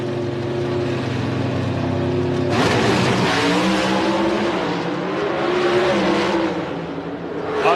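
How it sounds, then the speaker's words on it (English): Drag racing cars roar down the strip in a professional race, a loud continuous engine blast that surges sharply partway through and stays intense to the end. "Oh boy, what a drag race."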